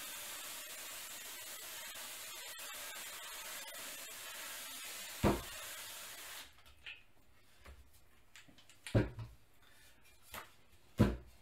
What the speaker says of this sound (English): now I'll take the sprayer and I'm gonna spray the back side of this liberally